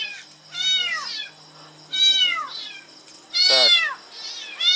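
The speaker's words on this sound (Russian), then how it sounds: "Коты, что вы орете?" Cats in Thailand let out three loud, drawn-out meows at close range, each separated by a short pause, the last one the strongest.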